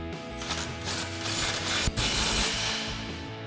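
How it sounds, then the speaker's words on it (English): A Chevrolet Silverado 1500 exhaust clamp is driven tight with an 8 mm Allen socket and extension on an impact gun, a loud close run of rapid ratcheting rattles and whirring bursts, with a sharp knock midway. "We'll go ahead and tighten this down using our 8 mil Allen head socket and extension"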